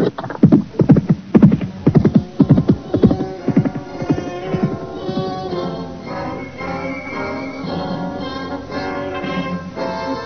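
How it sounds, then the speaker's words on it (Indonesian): Horses loaded with supplies set off at a trot in an Indonesian radio drama, four riders leaving a village. Loud clip-clop hoofbeats and a whinny come first, then a rhythmic trotting over a droning, musical backdrop. "Setelah menaikkan perbekalan ke atas punggung kuda, mereka pun segera naik ke atas kuda."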